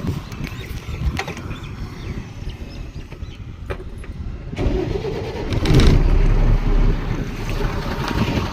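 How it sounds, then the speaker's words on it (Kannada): A goods vehicle's engine starts up beside a roadside tyre-puncture repair, the crank and catch building into a louder, steady idle rumble over the second half amid outdoor background noise. "ಗಾಡಿ ಚಾಲೂ ಮಾಡಿದೀವಿ"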